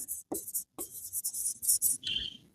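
Pen scratching on paper in short strokes and bursts while working out accounts, close and fairly steady, with brief pauses between strokes.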